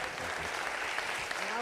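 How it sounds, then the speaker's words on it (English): Audience applause at a symposium session in Dubai, following a presentation; dense steady clapping from a crowd throughout, with a faint voice mixed in underneath. "Can we have a round of applause, please?"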